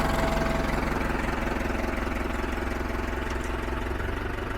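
A Ford 6610 tractor with a Carraro front axle, old and in as-is condition, runs with a steady, loud, close diesel engine drone and rhythmic low throb, heard alone without talk.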